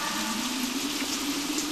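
Steady rain falls in a continuous, even hiss with no voices, a dense wet wash that stays at one level throughout the short stretch.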